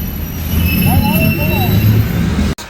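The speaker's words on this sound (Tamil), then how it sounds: "ட்ரெயின் ஏறியாச்சு." A passenger train's wheels squeal as it runs, thin sustained metallic whines and a brief wavering screech riding over a dense low rumble, close and loud, ending in an abrupt cutoff.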